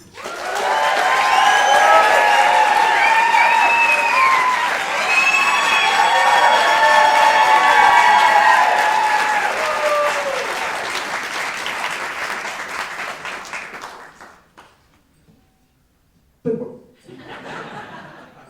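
Audience at a surfing book interview welcoming a guest with loud applause, cheers and some laughter, sustained for over ten seconds before fading out, followed by a short burst of talk.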